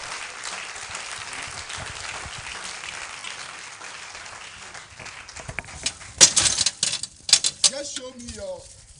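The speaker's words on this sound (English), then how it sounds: "Let the clapping increase" Audience at a live summit event clapping in a continuous patter that swells and grows louder toward the end, with a few whoops and voices breaking through.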